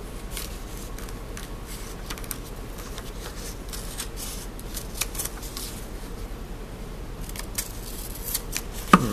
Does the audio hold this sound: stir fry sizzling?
no